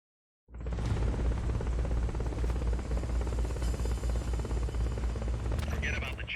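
Helicopter in the video game Metal Gear Solid: Peace Walker, a steady loud rotor drone that starts abruptly and holds throughout, with faint higher game effects near the end.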